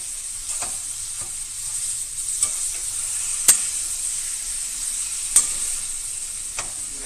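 Italian sausage frying and steaming in a pan gives a steady close sizzle with sharp pops and crackles scattered throughout, and no talking.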